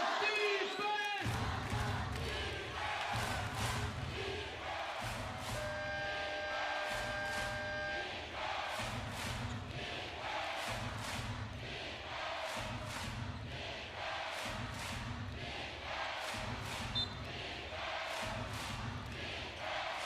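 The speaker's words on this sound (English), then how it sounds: "Ball hasn't even been inbounded and they're chanting for defense already." A basketball arena crowd at a B.League game between SeaHorses Mikawa and Ryukyu Golden Kings chants "defense" in a rhythmic, repeating pattern, with loud stomps and claps keeping time and no other voices on top.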